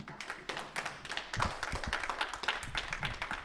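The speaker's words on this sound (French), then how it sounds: "On acclame." A church congregation claps together in a moderately distant, reverberant hall, with a steady patter of many hands continuing throughout and no voices.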